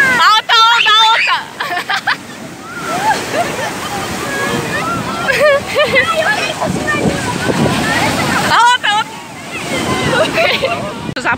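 Ocean waves surge and wash up on a beach in Portugal while people chatter excitedly over the rushing surf.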